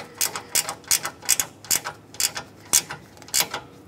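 A ratchet wrench tightens the AC condenser bolts on a 2007-2014 Chevrolet Silverado 2500 HD, a rapid series of close, crisp clicks in short regular strokes, no talking.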